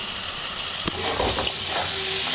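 Goat fat sizzles hard in a pan of spice masala while it is stirred, with a sharp hiss, a brief scrape near the start and a loud frying crackle that keeps on to the end.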